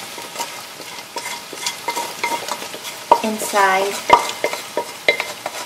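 Cooked mutton stirred into golden brown onions frying on high heat for a Pakistani mutton stew, with steady close sizzling, scraping stir strokes and a few clanks of the spoon against the pot; one brief word is spoken.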